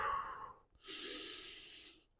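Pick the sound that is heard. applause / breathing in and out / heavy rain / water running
breathing in and out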